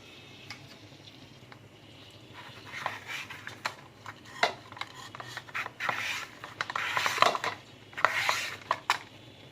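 Sweet potato is sliced on a bladed slicer, a series of scraping, rasping strokes that come in irregular bursts and grow louder partway through, close by with no talking.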